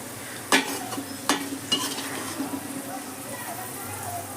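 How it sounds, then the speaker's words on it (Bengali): Corn pieces frying in hot oil for a chatpata corn snack, a steady sizzle with a few sharp pops and stirring clatters early on, close and moderately loud. "খুব সাবধানে ভাজবেন যেন ফেটে না যায়"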